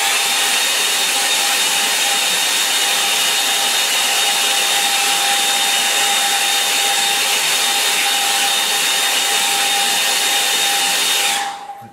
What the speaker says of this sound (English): Now I'm going to dry that again because I want the background dry so I can put in my darker blues.